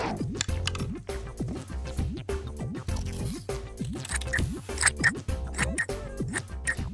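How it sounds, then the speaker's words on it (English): Repeated crisp snipping of scissors cutting through material, close by, over steady background music. "Now we need to cut this shape out, but be careful because scissors are sharp."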